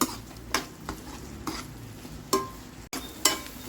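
Tomato goes into hot oil with softened onion, giving a low sizzle broken by several sharp scrapes and clinks of a spoon stirring the pan, close and without talk.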